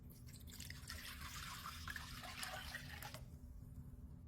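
Water pours steadily into a large mixing bowl that already holds a stick of butter, a continuous close splashing stream lasting about three seconds before cutting off into quiet.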